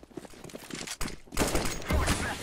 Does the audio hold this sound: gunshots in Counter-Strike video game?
yes